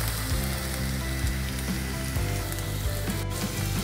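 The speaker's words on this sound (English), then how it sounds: "We're going to saute the onions and the capsicum for about 2 minutes" Onions and finely chopped capsicum sautéing in a pan for Mumbai street-style pav bhaji, a loud, steady, close sizzle with a few faint clicks, and no talking.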